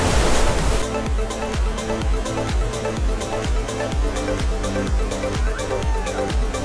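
A waterfall in Crimea on the Ai-Petri route in rain, roaring as a loud, continuous broadband rush of falling water, joined by a rhythmic series of sharp clattering impacts that repeats steadily throughout.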